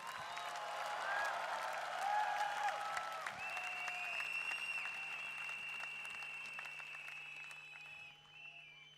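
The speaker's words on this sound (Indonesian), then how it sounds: "Tepuk tangan untuk Bapak" Seminar audience in Indonesia applauding a speaker, sustained clapping that swells and then gradually thins, with some voices and a faint whistle-like tone above it.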